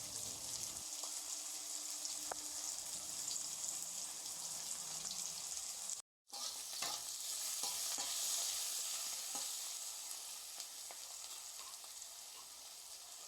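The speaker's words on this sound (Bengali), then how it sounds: "পেঁয়াজটাকে ভালো করে ভেজে নিচ্ছি" Onion frying in oil with a pinch of asafoetida added, a steady broad sizzle running throughout, loud and close, broken by a brief dropout midway and occasional stirring scrapes.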